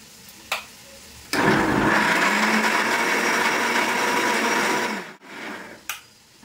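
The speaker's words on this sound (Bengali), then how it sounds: "যখনই আমি মিক্সিতে কোনো কিছু পেস্ট করি" A mixer grinder blends a spice paste in one loud, continuous whirring run of about four seconds, bracketed by sharp clicks as it switches on and off, close and unaccompanied by voices.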